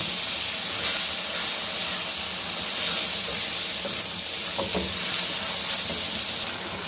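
Ginger and garlic paste sizzles as it goes into a hot pan with spices in a village kitchen, a close, steady hiss and crackle with a few stirring clicks.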